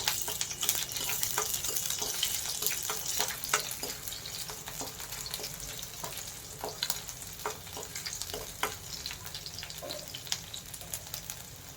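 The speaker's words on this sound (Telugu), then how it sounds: "ఓకే అండి, ఆయిల్ వేడెక్కిపోయింది. సో మనం ఫస్ట్ గార్లిక్ వేసేసుకుందాం." Garlic frying in hot oil for garlic rice crackles as a constant, close sizzle, dotted throughout with quick ticks and scrapes from stirring.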